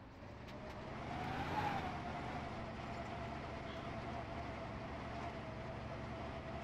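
A car engine in the video game DayZ Epoch drones steadily while driving, a continuous low rumble that swells slightly early on and then holds even and moderately quiet.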